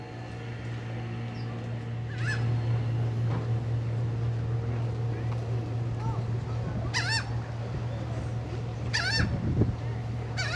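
Seagulls call out in several bursts of harsh cries over a steady low engine-like hum and crowd murmur on Liberty Island, with voices talking nearby.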